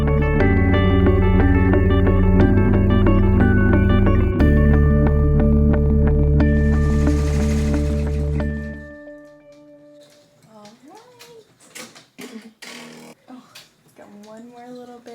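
An embroidery machine stitches out an American flag monogram with a steady, humming mechanical whir for several seconds; it then stops and a person talks.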